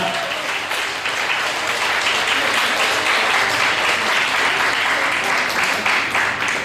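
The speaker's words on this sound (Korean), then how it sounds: "여러분 뜨거운 박수 부탁드리겠습니다" Wedding guests in a Korean wedding hall applaud during the ring exchange, a loud, sustained, even wash of many hands clapping throughout.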